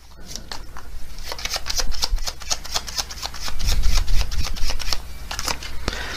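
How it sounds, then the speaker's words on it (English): Oracle cards are shuffled by hand in a steady, close riffle of rapid papery flicks and rubbing, continuous for several seconds with no talk. "Some more oracle cards."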